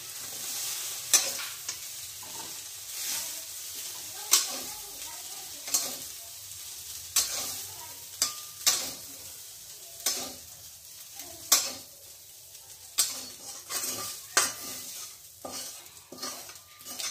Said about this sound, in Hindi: अभी मैं इसको फ्राई कर दिया और फिर निकल दूंगी इसको